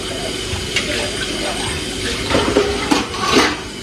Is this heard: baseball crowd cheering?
no